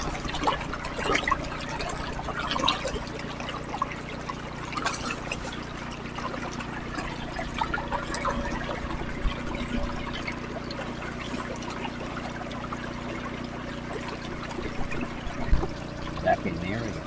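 Water pouring steadily through a gold prospecting sluice carrying classified dirt from tubs, a continuous close rushing trickle that runs the whole time with light knocks and splashes mixed in.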